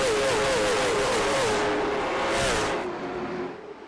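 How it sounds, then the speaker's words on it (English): A race car speeds past on a dirt track during a SARA national tour event, its engine note climbing and sweeping by with a warbling whine before fading into distance. "Here's the speed shot. Listen to him go by."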